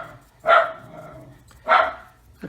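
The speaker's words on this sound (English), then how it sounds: "Hear the dog barking." A dog barks twice, a few feet away, with a short gap between the two sharp woofs, heard indoors during a scale model kit build.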